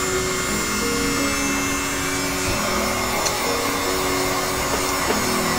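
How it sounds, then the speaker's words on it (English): A heat gun blows hot air over poured acrylic paint as a steady, loud, whooshing roar with a faint motor whine, continuous throughout. "It's called a heat gun."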